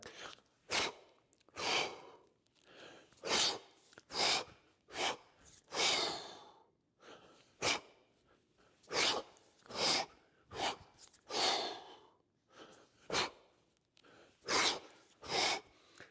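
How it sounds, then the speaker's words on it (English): Heavy rhythmic breathing during kettlebell long cycle lifts, sharp forceful exhales alternating with quicker inhales, repeated steadily and close up with no talking. "just listen to my breathing here"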